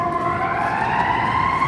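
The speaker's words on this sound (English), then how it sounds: "Comes some sirens." Wailing emergency sirens rising in pitch over a rumble of downtown Chicago traffic, fairly loud and steady throughout.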